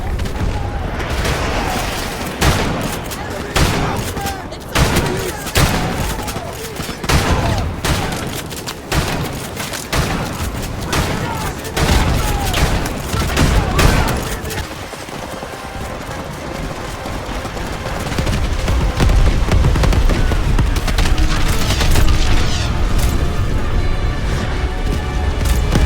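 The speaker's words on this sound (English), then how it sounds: "Taking fire here." Dense bursts of gunfire fill a Call of Duty Modern Warfare Remastered battle, with rapid volleys and heavy booms crowding the first half, then a sustained loud rumble of combat. Voices speak over the fighting.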